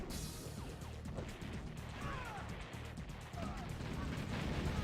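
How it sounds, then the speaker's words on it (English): A Yak aircraft strafing ground units in OpenRA Red Alert, heard as a faint spray of small gunfire pops and impacts under steady battle noise while a commentator talks over it. "Yak's coming in with a strafing run."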